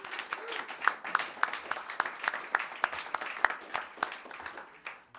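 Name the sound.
audience applause at a concert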